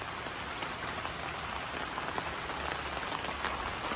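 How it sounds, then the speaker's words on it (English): Steady rain falls in a sun shower beside a house with a leaking chimney, a dense, even patter of drops on surfaces with no voices. "Sun shining, it's raining."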